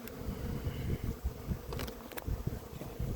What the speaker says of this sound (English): so there's a lot of bees in it, but not too many